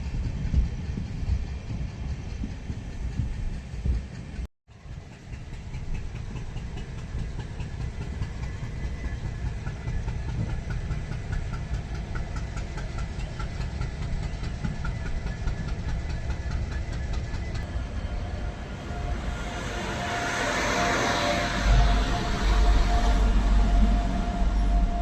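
Train running through the Bongaigaon goods yard, a steady low rumble of wheels and engine heard from on board, with a brief dropout near the start and a brighter hiss building toward the end.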